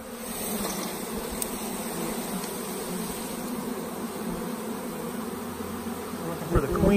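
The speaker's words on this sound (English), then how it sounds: "it was a pretty big swarm that fell to the ground" A large honeybee swarm lies clustered on the ground, filling the air with a dense, continuous buzzing hum that stays close and even, with a short rustle near the end.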